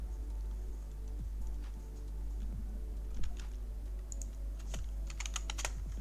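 Rapid, irregular clicking of a computer keyboard being typed on, fairly close and alone, with short bursts and brief pauses over a low steady hum.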